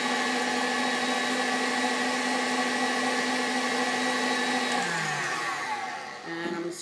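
An electric mixer beats strawberry buttercream frosting in a bowl with a loud, steady whirring drone that changes pitch near the end as the speed shifts, with no talking over it.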